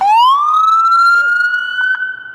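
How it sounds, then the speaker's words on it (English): A passing emergency vehicle's siren at Fremont sounds as one loud, clear rising wail that holds a steady high tone for a couple of seconds, with no talk over it. "The siren works. Their siren works."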